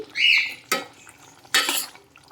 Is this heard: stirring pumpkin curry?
yes